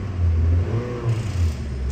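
A 2019 Honda Fit with a 1.5-liter engine revs in steady, low rumbling surges, one rise near the start and another past the middle, heard close with no talk.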